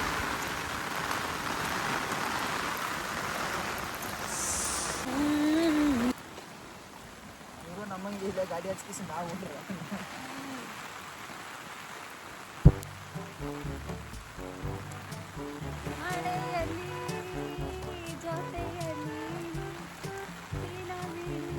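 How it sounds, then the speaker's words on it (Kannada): Heavy rain at the Mandaragiri hill, a broad, steady hiss that is loud in the first few seconds, then continues more softly under people talking nearby, with a sharp thump near the middle. "ಫುಲ್ಲು ಮಳೆ ಮಳೆ."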